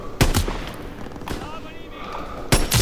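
Gunfire in a war video game, a couple of sharp shots at the start, another midway and a final burst at the end, loud and close, with a voice talking between them.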